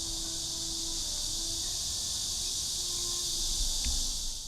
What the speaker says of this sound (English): These cicadas are so loud.